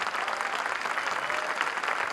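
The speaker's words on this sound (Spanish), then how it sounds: "Le podemos dar un aplauso a Agustín, por favor?" Audience applause in a church hall during a talk by a guest speaker, steady dense clapping from a crowd filling the short stretch at an even level.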